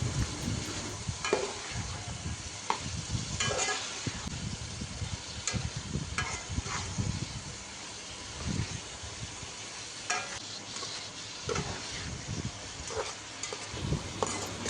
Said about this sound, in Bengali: এরপর সবগুলো উপকরণকে কিছুক্ষণ নেড়ে নিব।